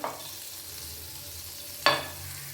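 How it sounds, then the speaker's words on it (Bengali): Butter melting in a pan for a chatpata corn recipe sizzles softly and steadily, with two sharp clanks of a utensil, one at the start and one near the end. "বাটার দিলাম, বাটারটা একটু গলে যাক।"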